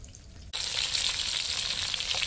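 Croaker fish, Mangalore-style masala fry, bursts into a loud, steady sizzle in hot oil after a brief quiet moment, the hiss continuing close and unbroken.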